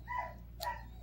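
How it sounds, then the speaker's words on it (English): A dog gives a couple of short barks in a home setting, each a brief yelp-like burst, moderately close and fairly quiet, with no talking over them. "that's my dog."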